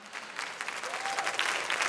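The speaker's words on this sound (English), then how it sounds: "So congrats and big applause for Mr. Mangano right now." Steady applause from a small crowd at the GT World Tour Nations Cup Final at the Nürburgring, continuous clapping at moderate volume with no talking.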